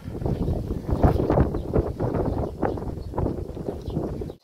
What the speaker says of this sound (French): vous devez entendre le vent là